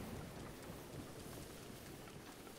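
Steady rain falls in Zelda Breath of the Wild, a soft, even hiss with a faint low rumble of thunder underneath, heard alone with no talk.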